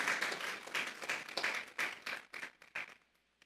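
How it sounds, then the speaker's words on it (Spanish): A church congregation claps as an offering to God, a burst of many hands in loose rhythmic groups that grows sparser and fades out near the end. "Vamos a darle una ofrenda de palmas a Dios en esta tarde"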